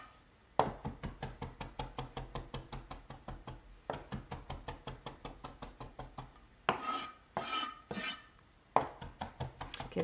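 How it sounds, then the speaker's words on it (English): A kitchen knife finely chopping food on a cutting board: quick, regular taps in long runs, broken by brief pauses and a few scraping sweeps, close but soft. "so just go through and chop it"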